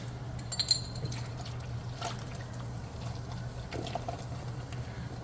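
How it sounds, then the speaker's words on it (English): Two beers poured over a brisket as braising liquid, a faint, steady trickle of liquid over a low background hum, with no talking. "We're gonna put 2 beers in here."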